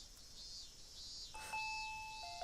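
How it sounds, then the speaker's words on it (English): A front-door doorbell gives a faint two-tone ding-dong chime, the notes sustaining and overlapping above a steady hiss, with no talk. "When I approached the front door, the doorbell rang. Ding dong."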